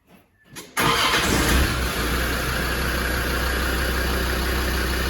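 A Land Rover Defender TD5 diesel engine cranks briefly and catches, then settles into a loud, steady idle close by, with no talking.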